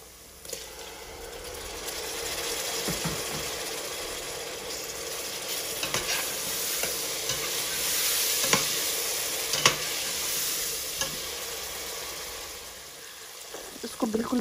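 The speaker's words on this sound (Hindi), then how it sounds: "और इसमें अब मैं 2 मीडियम साइज़ के टमाटर डाल रही हूँ।" Two medium tomatoes sizzle steadily in a hot pan for a baingan bharta, with scattered stirring clicks and scrapes over the continuous frying hiss.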